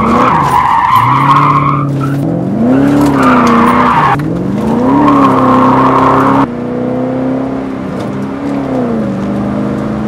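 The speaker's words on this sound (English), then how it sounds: "If you floor it, it shifts every time it gets to the red line." A Mercedes-Benz 560 SEC AMG accelerates hard, its engine note climbing to redline and dropping at each upshift in repeated loud sweeps, close and continuous with no talk.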